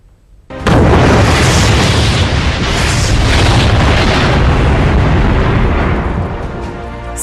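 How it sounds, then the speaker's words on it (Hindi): DRDO long range land attack cruise missile launching with a sudden loud roaring blast that holds as a sustained, powerful rocket rumble and slowly eases off. "सबसोनिक गति से हवा को चीरते हुए आसमान की ओर तेजी से बढ़ती हुई ये मिसाइल"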